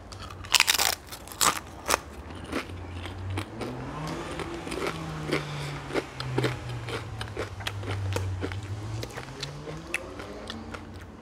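Korean glass noodles being eaten up close, with sharp crunchy bites and crackles at the start followed by repeated chewing clicks and slurpy mouth sounds, quiet and intimate, no speech.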